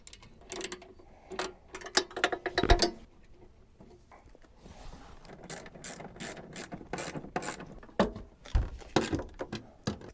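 Ratchet clicking in repeated bursts while tightening the exhaust muffler and tailpipe clamps on a Citroen 2CV, close and crisp with short pauses between strokes.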